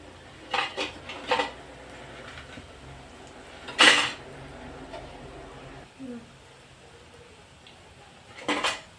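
A utensil turns crispy potato balls frying in a pan, making a few sharp, close metallic clinks and scrapes spaced by quieter stretches, with a faint background hiss between them.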